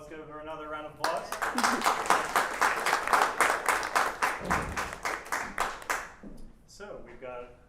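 Applause for a speaker at a space talk on off-world semiconductor manufacturing, a dense round of clapping from the audience lasting several seconds after brief talk, then fading as a voice resumes.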